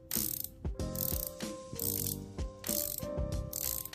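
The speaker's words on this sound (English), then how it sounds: "Let's check out the bezel action." Rotating bezel on a Longines Hydroconquest watch being turned, a series of crisp close ratcheting clicks in several quick bursts with brief pauses between, alone and fairly loud.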